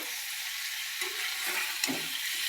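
Crabs frying and being stirred in a hot pan, a steady close sizzle broken by a few scrapes of a utensil.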